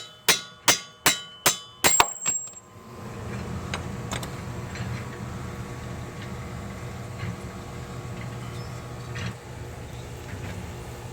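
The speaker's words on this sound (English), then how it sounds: "these are splined, so we're going to hit it on this bevel" Six sharp metallic hammer blows ring in quick succession on the bevel of a splined CV axle on a GMC Acadia, each with a short ringing decay, followed by a low workshop hum and faint scattered clicks and knocks.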